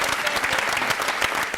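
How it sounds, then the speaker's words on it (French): An audience at an award gathering for the Marley d'or bursts into brisk applause for Zedmo, with close, dense clapping and sharp individual claps standing out throughout the short burst. "acclamation pour Zedmo s'il vous plaît"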